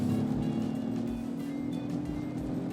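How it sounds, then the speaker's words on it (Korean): A Genesis GV80 2.5 turbo SUV, heard from inside the cabin, accelerates hard from 70 km/h in comfort mode. A steady, muffled engine drone and road rumble hold at an even level throughout, with no talking. "컴포트 모드로 70에서 엑셀을 지그시 지금 다 밟았어요"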